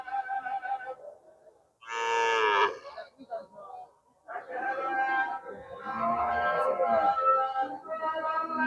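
A cow moos loudly once, nearby, between stretches of people talking in the foreground, at a rural cattle and calf market in Sreepur, Gazipur, Bangladesh.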